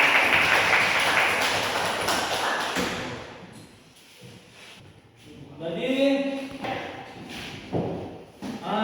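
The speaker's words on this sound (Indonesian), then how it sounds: "silakan tepuk tangan untuk kelompok 3" Classmates clap for a presenting group in a classroom, a loud burst of scattered hand claps that fades out after about three seconds, then a few separate taps and a faint voice as it quiets.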